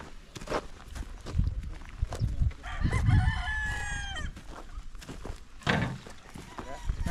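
A rooster crows loudly nearby amid scattered clucking from chickens on a farm, with footsteps and people talking throughout.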